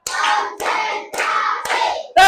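A class of schoolchildren clapping in rhythm, several bursts of hand claps from the group in an evenly spaced beat, fairly close and loud, with no talking.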